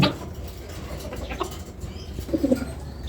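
Giribaz pigeons, including a green-coloured hen, coo softly nearby, with a brief flutter of wings at the start and low throaty calls toward the end.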